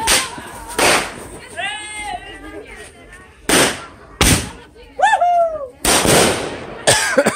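New Year's celebration firecrackers bursting in a string of sharp, loud bangs at irregular intervals, with whistling fireworks rising between them and people shouting and talking excitedly nearby.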